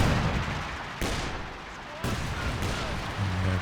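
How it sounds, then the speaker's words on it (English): A flame barrage artillery strike lands in Company of Heroes 2 during a 4v4 match, with loud, sharp bursts at intervals over continuous battlefield noise while a voice talks throughout. "they're going for the flame barrage here"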